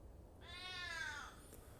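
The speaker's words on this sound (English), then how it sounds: "Why is my cat yelling at me?" Coconut, a pet cat, lets out a single drawn-out, rising-then-falling meow, close but fairly quiet, over faint background hiss.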